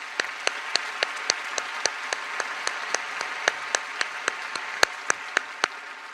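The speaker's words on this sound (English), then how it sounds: "Let's give those guys a round of applause" Applause for a high school symphonic band at a graduation ceremony, heard as sparse, distinct handclaps in a steady, evenly spaced patter that never swells into a dense ovation.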